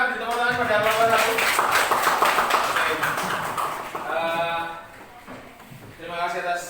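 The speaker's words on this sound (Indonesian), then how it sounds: "tepuk tangan pada Bapak satu" An audience claps for a presenter at a teaching-practice session in a vocational high school classroom. The applause is a dense patter of many hands over several seconds, mixed with voices talking, then fades out under continued speech.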